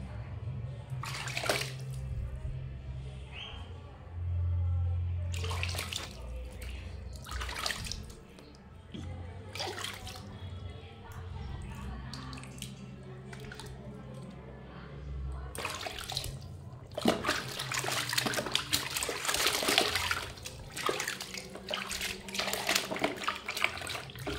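Water sloshes and splashes as a small child is bathed in a tub, with bursts of splashing and running water that grow busier and louder toward the end, over a steady low background hum and occasional voices.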